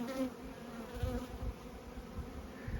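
Honeybees pour out of their hives on a cleansing flight after winter, making a dense, continuous buzzing hum of many wings that stays steady and moderately close throughout.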